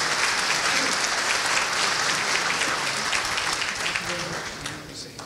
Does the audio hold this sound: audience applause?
yes